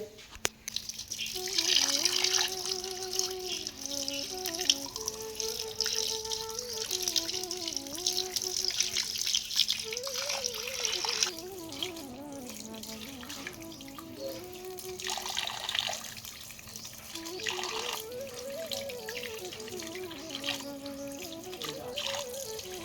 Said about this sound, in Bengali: মাছটা ধুতে এলাম